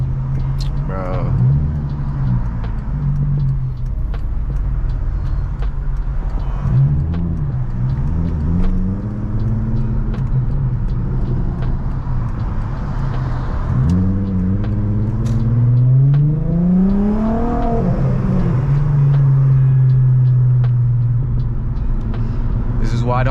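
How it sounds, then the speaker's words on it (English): Car engine rumbling steadily from inside a modified European car in traffic, with occasional revs rising and falling, and people talking throughout. "All this traffic"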